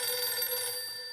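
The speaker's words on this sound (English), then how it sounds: "Don't pick up that phone." A telephone bell rings in the Battlefield 6 video game, a bright, metallic trill that sounds clearly and then tapers off near the end, with no talking over it.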